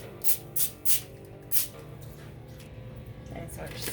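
Four short hissing bursts of cooking spray, evenly spaced, close by, while preparing a honey glazed ham, followed by quiet kitchen background.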